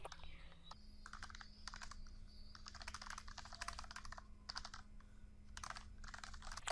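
Quiet typing on a computer keyboard while working in MS Word: bursts of light key clicks with short pauses between them and a low, steady hum underneath.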